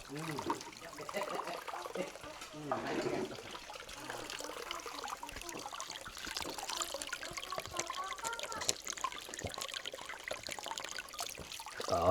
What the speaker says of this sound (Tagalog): ang tubig lumalagaslas